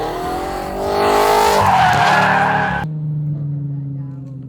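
Cars drift at a drift day, their tires skidding and squealing loudly over revving engines, then the screech cuts off, leaving a lower engine drone and faint voices.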